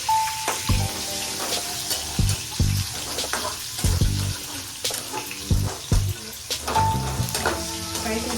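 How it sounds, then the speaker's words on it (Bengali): Tomatoes frying in a pan with cumin and dried chili, giving a steady close sizzle with intermittent stirring and scraping, and a voice speaking briefly over the cooking. "ফ্রাই করছি"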